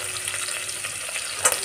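Chopped cauliflower, capsicum and potato fry in hot oil with a steady close sizzle, stirred now and then with soft scraping and a brief louder clatter near the end.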